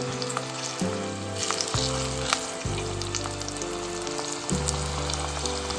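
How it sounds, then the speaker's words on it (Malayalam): Roughly cut onion and mustard seeds fry in hot oil for a Sri Lankan okra curry, a loud steady sizzle with scattered crackles and pops throughout. "ആ സെയിം ഓയിലിലേക്ക് തന്നെ സബോള റഫായിട്ട് കട്ട് ചെയ്തു, കടുക്,"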